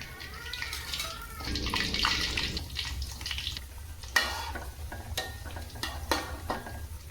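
Risoles frying in hot oil, a steady sizzle with stirring and scraping, plus a few sharp clinks of utensils near the end.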